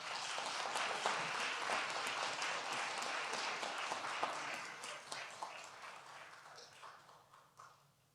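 Audience applause at a university fall convocation ceremony as seniors pin one another, a dense, sustained crowd clapping that holds steady and then gradually thins and fades toward the end.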